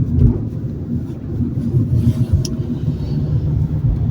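A car rolls over a canal bridge in Sète, giving a steady, loud, close road rumble with low tire and engine drone throughout and no talk.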